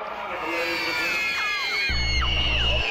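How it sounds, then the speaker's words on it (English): A crowd of children screams and whoops at a sporting event, a dense stretch of high shrieks at even volume with a low rumble joining near the end. "Do kids ever get tired of screaming?"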